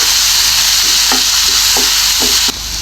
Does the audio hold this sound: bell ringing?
no